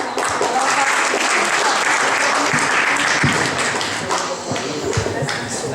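Applause from an audience at a school spelling contest, a steady wash of clapping with some thuds and taps, continuous and fairly loud, with faint voices beneath.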